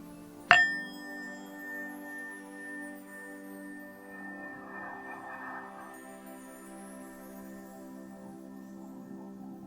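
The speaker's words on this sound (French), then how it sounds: "avec le son de la cloche" A meditation bell in a sophrology relaxation session, struck once and ringing out clearly, its bright shimmering tone slowly fading over several seconds into quiet.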